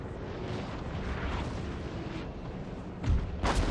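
Artillery cannons fire in the Napoleonic battle game Napoleon: Total War, a dense rumbling barrage of booms over continuous battle noise, with two heavier nearby blasts toward the end.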